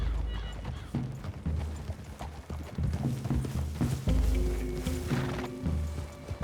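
Horses in the Red Dead Redemption 2 video game clop steadily through woods, hooves thudding in an uneven rhythm, with a whinny and other game sounds layered over the trotting.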